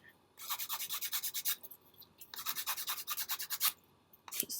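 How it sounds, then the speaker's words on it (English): A glitter epoxy pen end is filed in two bursts of quick, rhythmic rasping strokes, close and fairly loud, with a short pause between runs and one last stroke at the end; no one talks. "We're just going to file this end here."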